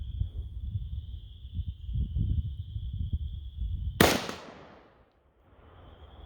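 An AK-47 fires a single sharp, loud shot of cheap plinking ammo at a steel target, following several seconds of low rumbling and a steady high whine. The shot decays quickly into near silence.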